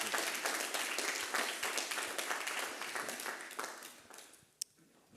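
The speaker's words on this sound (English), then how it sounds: "An applaud, please." Audience applause at a war museums conference, a dense crowd of clapping that holds strong, then thins and fades out near the end with one last stray clap.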